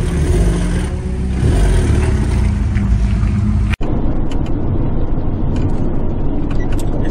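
A Subaru WRX GRB accelerates hard around a racing circuit, its engine note loud and sustained with a brief sharp dropout partway through, then continuing steady and strong.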